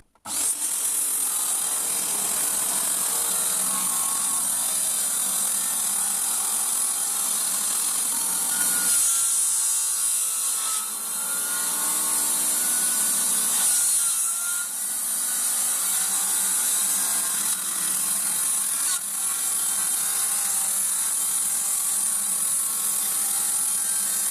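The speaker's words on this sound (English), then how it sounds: "let's see if the saw's still working first." A power saw cuts steadily through wood from old doors, a continuous close rasping whine with brief dips in load midway and no talking.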